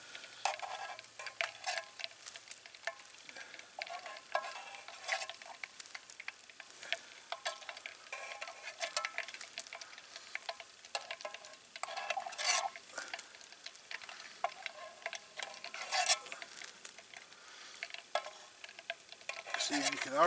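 Ghee sizzling in a canteen cup while foam is scooped off the top: a steady, crackly fry with quick scraping and ticking taps of the spoon running throughout, moderately quiet and close.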